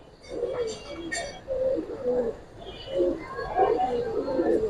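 Pigeons of Giribaz and silver types coo in short, repeated low bursts, nearby and moderately loud, while a person talks over them intermittently.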